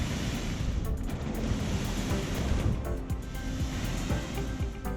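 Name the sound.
ocean waves on the Adriatic shore near Split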